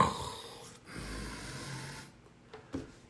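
A voice imitates a character's snoring as a low rumbling purr, a drawn-out throaty rasp followed by a shorter snort, close and fairly quiet.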